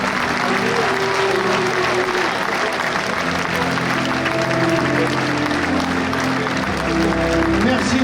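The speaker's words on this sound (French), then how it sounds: "accueillons sous vos applaudissements Monsieur Michel Naval." Sustained audience applause at a bullfighting tradition ceremony in Arles, loud and dense throughout with crowd murmur and some voices mixed in.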